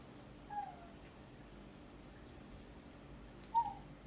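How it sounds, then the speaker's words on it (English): A dog whines indoors in two short, high, faint cries spaced about three seconds apart over a quiet room background. "That's one of my dogs you hear whining"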